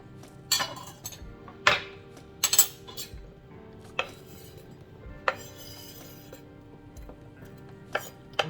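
Chopped onions with small green pieces tipped into a bowl of chunky jalapeño chickpea and lentil salad, heard as scattered clinks and scrapes of utensils against the dish, a few sharper taps among quieter rustling, with no talking.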